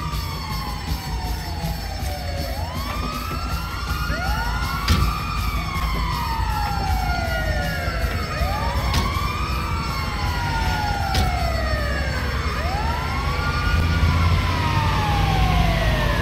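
Wailing ambulance siren in GTA 5, rising and falling sweeps repeating steadily for about sixteen seconds, loud and continuous with faint engine and game noise underneath and no talk.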